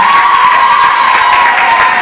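Audience clapping and cheering at a school student cultural and speech program, a dense, steady wash of applause with some shouting, continuous and close throughout.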